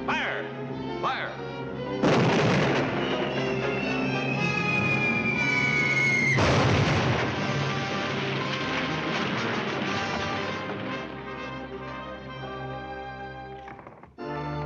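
Cartoon artillery cannons firing in a 1941 Looney Tunes short, heavy booms and rumbling blasts with a rising whistle, set among orchestral music and shouted commands.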